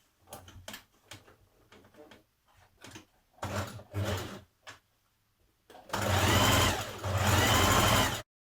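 A sewing machine stitches a sports bra in short, stop-start bursts of rapid mechanical whirring, ending with one long, loud continuous run up close.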